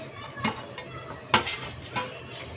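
Chopped onion and chilli tip into a pan for vegetable pulao, heard as several sharp clinks and scrapes of a utensil against metal at irregular intervals, fairly quiet, with no talk.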